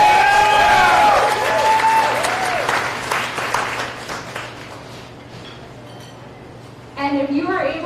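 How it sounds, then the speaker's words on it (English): Applause from a crowd gathered at a restaurant debate watch party, loud at first and tapering off over several seconds, with clinking glasses and dishes in the background and chatter resuming near the end. "Let's give him a round of applause."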